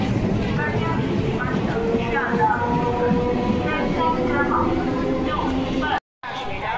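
A train runs through Bidhannagar station, a steady loud rumble and clatter of rail cars that fills the whole stretch, with crowd chatter and voices mixed in and a brief dropout just after six seconds.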